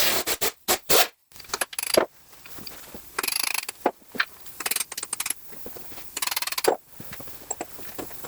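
A ratchet undoing the bolts on a gearbox lid: bursts of rapid clicking ratchet strokes, separated by short pauses, close and loud with no talk.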